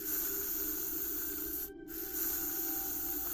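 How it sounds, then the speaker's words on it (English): A steady broadband hiss of aerosol bug spray runs almost continuously, broken once by a brief pause before the spraying resumes. "Bug spray! We gotta go outside now!"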